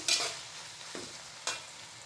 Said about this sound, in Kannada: ಬದನೆಕಾಯಿ ಎಲ್ಲ ಚೆನ್ನಾಗಿ ಎಣ್ಣೆನಲ್ಲಿ ಫ್ರೈ ಆಗಿದೆ ನೋಡಿ